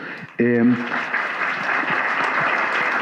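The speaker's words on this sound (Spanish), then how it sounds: "pedirles un aplauso a todos" Applause for panelists at a public forum on state surveillance, steady clapping from a seated audience that follows a brief voice at the start and continues evenly to the end.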